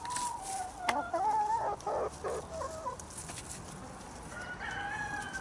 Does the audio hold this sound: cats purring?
no